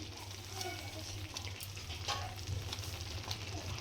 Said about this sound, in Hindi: मैं खोवा डाली हूँ, उसी में मैं शुगर भी